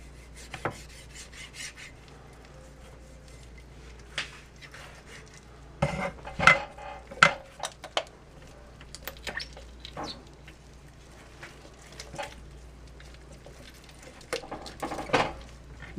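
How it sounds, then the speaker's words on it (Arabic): A knife cuts through raw chicken on a board: scattered scraping and clicking strokes, some clacks against bone, close by and spaced irregularly with quiet gaps between. "لما تقطعوا الدجاج، تستعينوا بايدكم بقوتكم وبالسكين"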